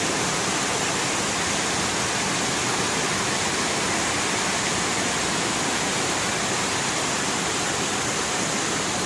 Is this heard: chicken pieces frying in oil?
no